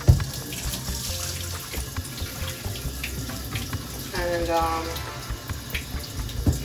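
Tap water runs steadily into a kitchen sink while goat meat is rinsed by hand, with splashing and clunks over the continuous flow; a person speaks briefly over it.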